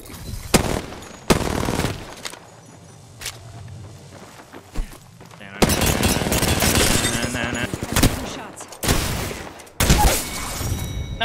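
Gunfire in the Apex Legends video game, several bursts of loud automatic shots and sharp single cracks separated by quieter gaps with footsteps, close and punchy.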